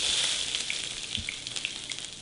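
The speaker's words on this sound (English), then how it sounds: "Saute some onions." Onions sautéing in hot coconut oil give a steady, bright sizzle throughout, with small pops and crackles near the pan and no voices.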